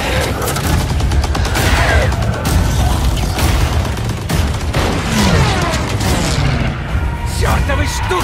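Rapid bursts of gunfire and heavy booms fill a Call of Duty WWII zombie-mode battle, the shots dense and loud and close, with shouting voices over them.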